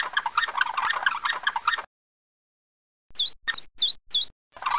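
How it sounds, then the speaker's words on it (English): Short electronic bird chirps from the 1998 Curious George Reads, Writes & Spells PC game, four quick bright tweets in a row following a spoken voice and a pause, clean and close with no background. "That bird flew away before you could catch it."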